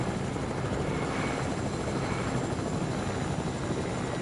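A helicopter in a PS4 video game flies with a loud, continuous rotor and engine drone that holds steady throughout, close and unbroken, with no voices over it.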